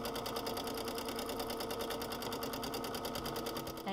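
A sewing machine running free-motion quilting for applique stitches at a rapid, steady pace, its needle producing a continuous mechanical clatter heard close up and alone.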